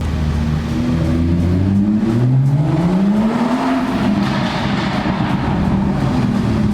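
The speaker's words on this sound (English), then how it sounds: "I just did a pull to about 30 miles per hour in less than 2 seconds" A 2018 BMW 340i with the B58 engine pulls hard out of a parking garage, the engine note climbing steadily in pitch through the revs, loud and close, echoing off concrete walls.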